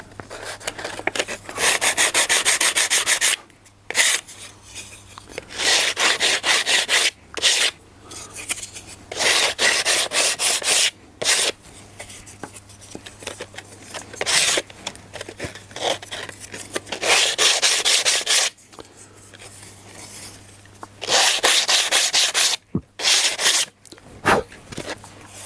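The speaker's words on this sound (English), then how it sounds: "Just sanded enough to get the tab away." Sandpaper rubs against a leftover tab on a model part held on a piece of wood, producing repeated rasping strokes in bursts of several seconds separated by short pauses, close and clear with no talking.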